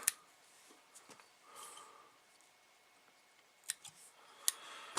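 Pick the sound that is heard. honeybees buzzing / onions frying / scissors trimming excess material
scissors trimming excess material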